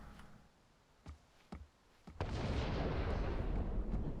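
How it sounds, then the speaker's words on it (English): Cannon fire in the video game Silver Chains: a few sharp, separate booms come first, then a loud, sustained rumbling roar that fills the rest of the stretch, with no talking. "It's still the cannon sounds"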